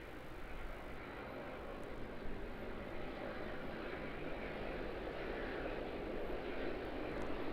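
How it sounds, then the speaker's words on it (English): An ATR turboprop aircraft comes in to land at Auckland Airport, heard as a faint, steady distant engine drone with a broadband hiss that stays even throughout, with no voices. "There's our all black 787 holding short for an ATR coming in."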